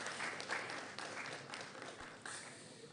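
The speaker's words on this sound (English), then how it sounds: "Let's give them a round of applause for that." Applause from an audience at the National Science and Maths Quiz 2019 launch evening, a dense, steady wash of many hands clapping throughout without letup.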